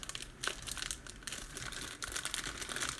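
The foil wrapper of a 2021 Fairfield trading card pack crinkles and crackles as it is worked open by hand, in quiet, irregular bursts close by with no speech.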